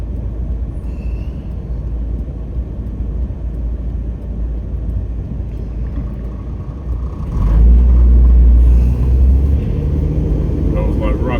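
Road traffic at a small junction heard from inside a moving car on a delivery drive around Youngstown: steady engine and tyre rumble, with a louder vehicle swelling nearby toward the end.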